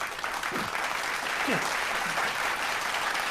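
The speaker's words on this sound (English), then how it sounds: "So, can I applaud the man now?" Steady applause from a small group fills the space during a podcast taping, continuous and even throughout, with a brief spoken word and some chatter over it.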